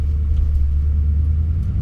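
A Toyota Tundra truck idles after a cold start following eleven days parked, giving a loud, steady, low engine rumble close by with no talking.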